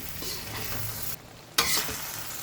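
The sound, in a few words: green chillies frying and being stirred in masala for pickle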